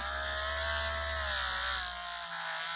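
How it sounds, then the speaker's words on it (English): A rotary diamond bit grinds into deer antler for a knife handle, a steady high whine with a hard edge that stops abruptly near the end, close and loud. "the drill bit I've got here is a little, well, it's not a drill bit, it's a diamond bit"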